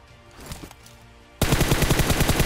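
Sudden burst of rapid automatic gunfire in a mobile battle-royale shooter, loud and close, firing steadily after a quiet lead-in of faint game ambience.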